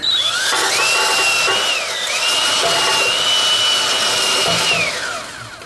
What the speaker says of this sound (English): clean up these threads with a wire wheel so that the nut comes off easier